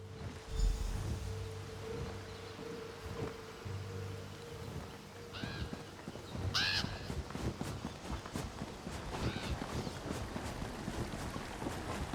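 A crow in The Elder Scrolls Online gives a few separate harsh caws midway through, set against windy, rainy ambience with a low hum early on.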